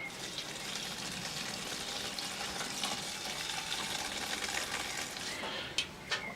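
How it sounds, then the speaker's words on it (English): Water poured onto layered plant material gathered for homemade organic fertilizer: a steady, soft rushing and trickling wash that runs continuously and quietly, ending with a couple of small knocks. "We add a bit more water."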